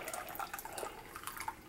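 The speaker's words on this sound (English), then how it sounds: "Then you add a cup of water." Water pours from a tap or into a cup while breakfast is being cooked, a steady faint trickling and splashing that runs through the short moment with no talk.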